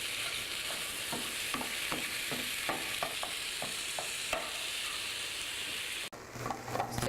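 Ground turkey breast frying in a pan while a utensil chops and stirs it, giving a continuous sizzle with repeated clicking scrapes. The sizzle turns quieter and uneven near the end, and no one speaks.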